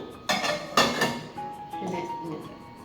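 Stainless steel vessels are handled and set down, giving a few sharp metallic clinks and knocks close by, followed by lighter scraping and rattling, with a voice speaking in between.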